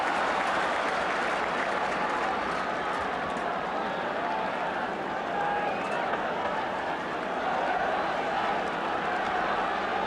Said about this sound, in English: And suddenly the crowd have come to life.